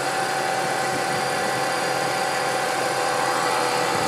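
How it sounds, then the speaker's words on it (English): A steady whine from an idler pulley in the engine bay of a BMW E46 while the engine idles, with continuous mechanical hum and vibration, close and unbroken. "it sounds like an idler pulley comes from down here"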